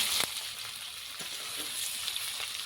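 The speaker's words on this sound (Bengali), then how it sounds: "পেঁয়াজ আর আলু একটু টাইম নাড়াচাড়া করে ভেজে নিয়েছি" Chopped onion and boiled potato pieces frying in a pan give off a soft, continuous sizzle, with a few light scrapes from stirring close by.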